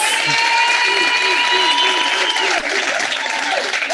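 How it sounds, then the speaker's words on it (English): Audience at a City of Joburg council meeting applauds Dr. Nyati, a dense, steady wash of clapping that holds for several seconds with voices mixed in. "Can we give Dr. Nyati a big round of applause?"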